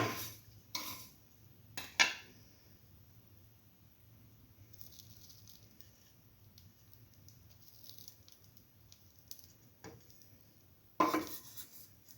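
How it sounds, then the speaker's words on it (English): A cooking pan is lifted off the stove while bread pieces toast for a vermicelli soup, giving a few sharp metallic clanks spread apart in a mostly quiet kitchen. "slowly take off the pan"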